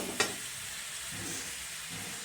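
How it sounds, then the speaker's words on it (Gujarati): Grated radish sambharo sizzles and fries gently in a pan, a steady soft hiss with an occasional spatula scrape and one sharp tap early on, fairly quiet throughout. "હલાવશું આપણે ધીરે ધીરે. સળી જાય ને મોરું મોરું વઘારવાનું હોય."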